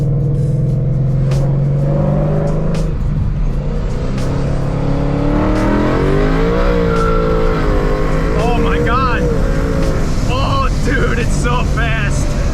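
Supercharged Ford Mustang with a K&N intake revving hard on a dyno, a loud sustained engine roar climbing in pitch through the gear, with people talking and shouting over it.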